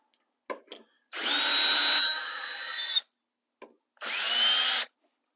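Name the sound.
power tool removing screws from scenery panels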